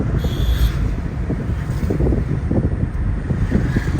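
Strong wind buffets the microphone in a constant low rumble with gusty surges, loud and close throughout.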